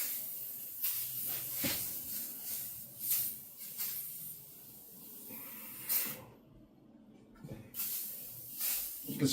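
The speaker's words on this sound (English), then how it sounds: "So I'm just going to give it a quick spray here, everywhere." Repeated hissing bursts of an aerosol can spraying metal protector onto a snowblower, close and fairly soft, with short pauses between sprays.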